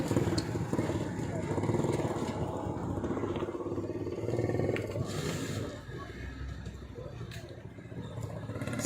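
A 2001 Toyota Platz car engine fitted with a hydrogen kit is revved lightly, giving a rough, fluctuating rumble, with people talking over it.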